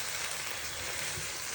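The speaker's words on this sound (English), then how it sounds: "we put in our tomato stock and cook that down" Tomato stock cooking down in a hot pan, giving a steady, loud, close sizzle and bubbling hiss that holds evenly throughout with no breaks.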